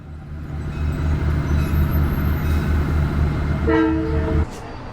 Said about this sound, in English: since our train is arriving now, let's go take a close-up look at it